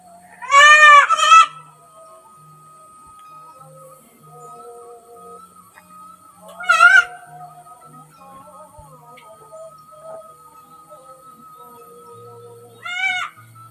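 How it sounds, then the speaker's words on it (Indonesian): Several bleating calls from village sheep or goats in rural Sundanese countryside, wavering and loud, spread across a quiet stretch with long gaps between them. "setiap di kampung pasti ada ternak domba atau kambing ya. Tuh suaranya"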